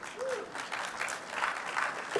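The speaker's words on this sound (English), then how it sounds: "Please make them welcome with a round of applause." A conference audience at a business technology roundtable on AI claps to welcome guests, a fairly faint, dense round of applause rising and falling slightly over two seconds, with a brief voice-like sound near the start.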